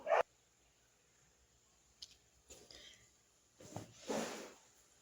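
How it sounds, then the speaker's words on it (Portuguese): A female dog gives a few short, scattered barks and yips indoors, fairly close, separated by quiet pauses, with one louder burst near the end. "vou pausar um pouco por causa da cachorra"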